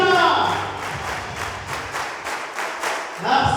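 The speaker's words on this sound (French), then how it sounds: "Est-ce qu'on peut exagérer les acclamations?" A crowd at a live event in Butembo applauds and cheers, with dense rhythmic clapping throughout and a speaker's voice heard briefly over it at the start and end.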